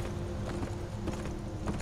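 Steady horse hoof clip-clops at a walking rhythm in the video game Beyond: Two Souls, fairly quiet beneath a constant low hum and background noise.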